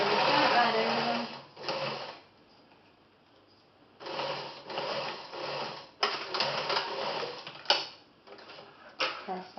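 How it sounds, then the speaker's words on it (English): Sewing machine stitching a zip into a garment, running in short bursts of rapid mechanical whirring with pauses, fairly quiet and close, with pins being removed between runs and a voice speaking in the gaps. "Turn your machine on, again, and off we go."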